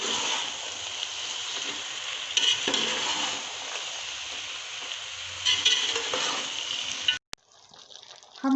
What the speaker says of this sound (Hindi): हमने आलू को हल्का सा भून लिया है